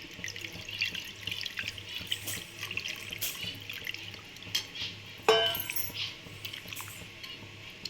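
Rice-soaking water is poured with a continuous splashing hiss, about two tumblers' worth, with a brief clink partway through.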